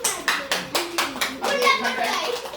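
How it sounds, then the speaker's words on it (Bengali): A small audience applauds a volunteer called forward at a magic show, with a run of rhythmic, fairly close hand claps that blur into a denser patter, and children's voices mixed in. "ওনার জন্য একটা বড় করে হাততালি হয়ে যাক"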